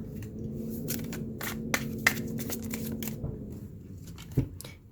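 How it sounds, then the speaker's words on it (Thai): A deck of tarot cards is shuffled by hand in quick, crisp riffles and flicks, close and fairly quiet, with irregular bursts of papery snapping over a low background hum. "ดี๋ยวขอสับไพ่"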